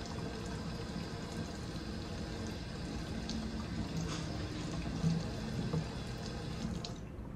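Tap water runs steadily into a sink while natural hair makeup brushes are rinsed and handled, a constant close rush with faint splashes and drips on top.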